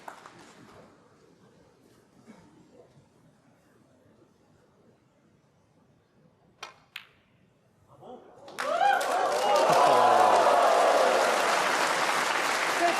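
A snooker crowd at a Xi'an Grand Prix semi-final bursts into loud, sustained applause after a quiet stretch, the clapping swelling suddenly and holding steady to the end.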